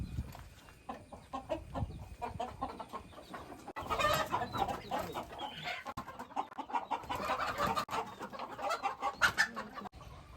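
Native country hens on a small egg-laying backyard poultry farm cluck and squawk continuously. The busy, overlapping clucks are moderately close, with occasional louder calls and no talking.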